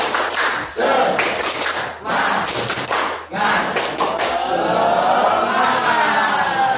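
A class group performs a rhythmic spirit clap, a patterned sequence of sharp, loud claps and thumps in bursts separated by brief pauses, with some shouting mixed in.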